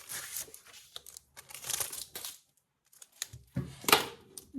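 A fresh paper budget card is pulled out and handled nearby, giving soft crinkling, rustling and sliding sounds in quiet bursts with a short pause in between.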